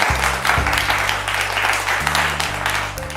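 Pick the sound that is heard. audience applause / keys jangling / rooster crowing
audience applause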